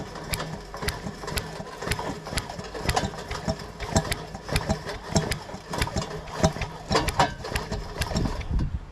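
British Seagull Century Plus outboard motor being spun over by hand during fault finding, producing a steady clattering, ratcheting mechanical rhythm with repeated clicks that stays close and fairly constant throughout.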